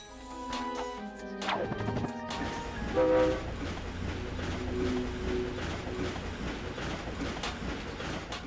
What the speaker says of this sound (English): We have to climb across the train while it's moving.